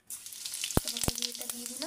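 Whole cumin seeds dropped into hot oil for a fish-head muri ghonto, a steady close sizzle with a couple of sharp clinks of a utensil against the pan.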